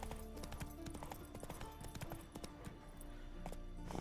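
A horse gallops in The Witcher 3 on Ard Skellig, its hooves making a rapid, steady clip-clop rhythm of sharp thuds throughout. It plays against a busy game soundscape with no talking.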